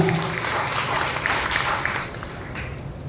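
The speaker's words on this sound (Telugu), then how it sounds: "మొదటగా చప్పట్లు కొట్టి ప్రభువును మహిమపరచండి బిగ్గరగా" A church congregation claps loudly in praise during an evening worship service. The applause forms a steady, dense roar of many hands that lasts throughout without pause.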